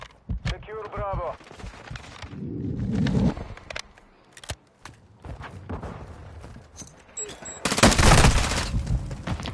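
Gunfire in a shooter video game: dense bursts of automatic fire and single shots crackle through a busy mix, with a loud volley near the end.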